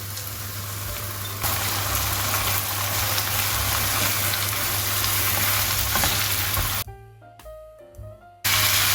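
Grated raw potatoes with red chilli powder cook in a pan for a potato börek filling, a loud steady frying hiss with stirring running throughout and briefly breaking off near the end.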